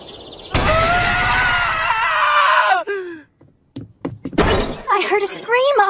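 A loud, sustained high-pitched scream in an anime fantasy scene, holding steady for over two seconds before breaking off, followed by a short gap and then other strained, shrill vocal sounds.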